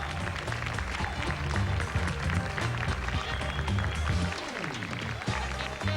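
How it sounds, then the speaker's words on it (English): Sustained applause for pageant contestants at a beauty event fills the whole stretch, dense and steady from a large crowd, fairly distant and without clear talk over it. "A big round of applause for all the girls."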